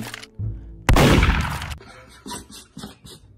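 Gunfire in Roblox Murder Mystery 2, a loud burst of shot noise near the middle followed by a few quicker sharp cracks, with no talking.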